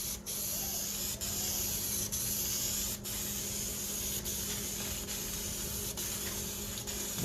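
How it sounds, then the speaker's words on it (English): A steady, continuous hiss of spray from an aerosol adhesive can held close to seat foam on an ATV seat, running almost unbroken with a few brief dips. "you get a lot of this adhesive spray on this foam"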